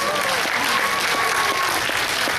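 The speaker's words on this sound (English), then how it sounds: "Everybody give David a big round of applause for helping" A cruise ship show audience gives a helper a steady, loud round of applause, dense and continuous clapping filling the room, with a faint whistle or cheer rising through it.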